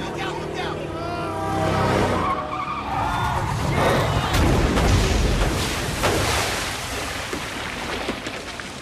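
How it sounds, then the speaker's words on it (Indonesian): A speeding car whose brakes have failed skids and roars in a film scene, with loud tyre and engine noise that swells through the middle, under steady talk. "rem mobil mereka tiba-tiba tak berfungsi, membuat mereka nyaris celaka"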